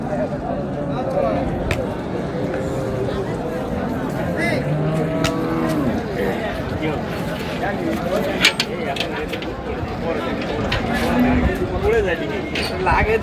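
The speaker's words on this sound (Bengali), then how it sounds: "গাভী বাছুর আমরা দেখছিলাম এখানে" Dairy cows and calves at the Raniganj cattle market in Dinajpur low and moo amid a dense crowd of voices, with people talking throughout over a busy, continuous market hubbub.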